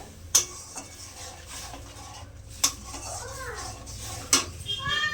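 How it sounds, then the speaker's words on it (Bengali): A spoon scrapes and clinks against a pan while cauliflower curry with katla fish head is stirred, three sharp metallic knocks standing out over a low, quiet kitchen background. "একটু চিনি দিলাম, ভালো করে কষিয়ে নেব।"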